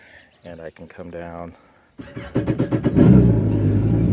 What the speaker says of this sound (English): start the Wave Runner, which is up on a lift, so it sounds a little noisier than normal